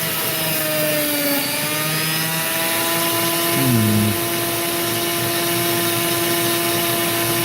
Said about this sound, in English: I don't like slicing with this particular drill, but I will if I need to.